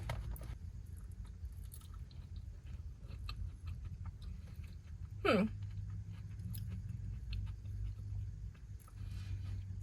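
Banana dessert being chewed close to the mouth, soft and moist with little crunch, a low steady mastication over a dull background rumble, with a brief swooping noise midway.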